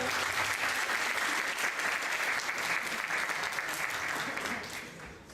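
Steady applause fills the hall at a philosophy book launch, dense even clapping from a seated audience that tapers slightly in the final second.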